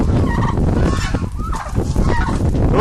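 A big male turkey on a farm gobbles in loud, rapid warbling bursts, close by, with other fowl honking and clucking around it.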